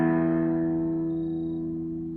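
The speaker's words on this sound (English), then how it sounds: "you plug into the vibrato side, and then you activate the reverb" A guitar chord rings through a 1959 Fender Vibrasonic amp fitted with aftermarket reverb, sounding loud at first and then slowly decaying with a lingering, smooth reverb tail.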